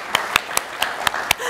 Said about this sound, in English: let's applaud these people too